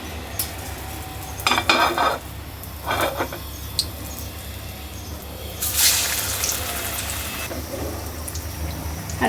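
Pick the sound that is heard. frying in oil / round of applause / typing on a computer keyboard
frying in oil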